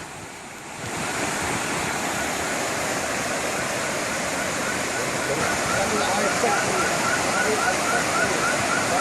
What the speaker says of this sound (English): rain suddenly turns stairways into strong flowing streams